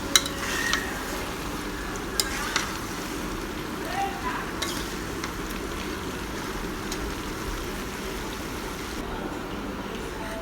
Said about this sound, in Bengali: আস্তে আস্তে কষিয়ে কষিয়ে রান্না করে ফেলবো।